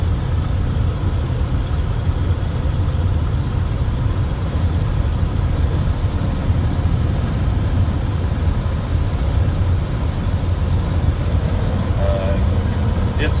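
A 1977 Ford F250 one-owner truck with 29K miles cruises down the road, a steady engine and road rumble heard from inside the cab, with someone talking over it.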